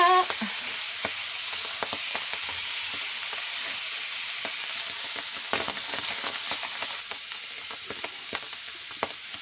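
Hot oil sizzles and crackles steadily as garlic fries in a pan, with a loud, close, continuous hiss and scattered pops throughout.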